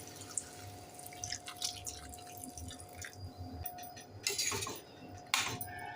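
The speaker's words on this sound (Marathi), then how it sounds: "याच्यामध्ये आपण पाणी घालूया" Water is added to vegetables for Bhogichi bhaji in a pan, with splashing, dripping and a few metallic clinks of a spoon against the pan, close and moderately loud.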